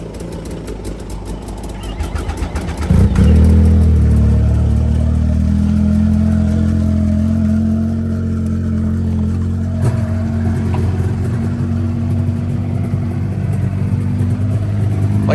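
Several snowmobile engines, including a 98 motor with a big flash and a Hooper ZRT, fire up one after another in the cold and settle into a loud, steady combined idle with uneven revving, close by.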